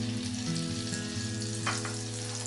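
Oil with butter sizzles steadily in a pan for cooking mashed potatoes and spinach, a constant near frying hiss over a low hum, with a brief scrape midway and no talking.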